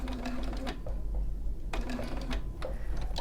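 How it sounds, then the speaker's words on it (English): A sewing machine running a short straight stitch across a small V section of fabric, a rapid mechanical whir in two bursts separated by a brief pause. "I'm going to go to a straight stitch. I'm going to make it slightly shorter, and I'm just going to stitch down that little V section."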